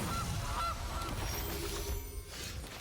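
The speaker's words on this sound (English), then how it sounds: "Goose!" A goose honk sound effect plays in the Magic card video game, a few nasal honks up front, then a fainter tail of game sounds.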